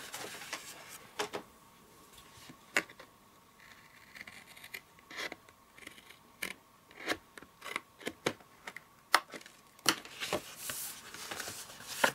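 Scissors snip and trim a paper gift wallet up close, sharp irregular cuts scattered between soft paper rustling and handling noises in a quiet room, with no talking.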